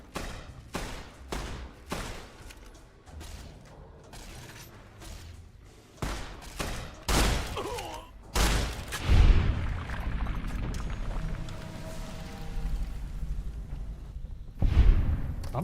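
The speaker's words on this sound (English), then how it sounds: "I'm shooting him." Gunfire in the modded video game Fallout New Vegas: a string of sharp, separate shots, then heavier booming blasts and a rumbling stretch, with a last loud shot near the end, all close and loud.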